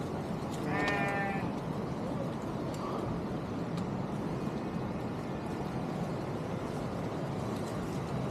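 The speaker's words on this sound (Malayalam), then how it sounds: "ഇവിടെ ഫുള്ള് ആടുകളാണ്. മേയാൻ വന്ന ആടുകളാണ്." A single bleat rises from a grazing flock of sheep and goats on a mountain trek near Hampta Pass, heard briefly early on over a steady outdoor wind-like background.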